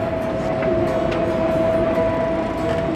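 A train rumbles steadily along the rails, heard from inside, with a constant low drone and a faint sustained tone over it.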